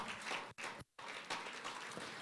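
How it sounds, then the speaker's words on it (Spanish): A church congregation claps during a sermon, a loud, steady stream of applause broken by two brief pauses near the start. "Denle un aplauso al Rey de Gloria."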